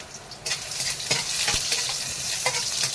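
Ginger sautéing in a pan for chicken tinola, a steady sizzle with scraping stir strokes at intervals, close and fairly loud with no talk.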